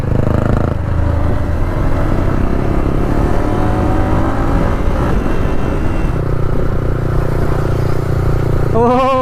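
A modified motorcycle races along a road, its engine droning loud and near with revving shifts in pitch and a rough rumbling undertone throughout, plus a short rising whine near the end.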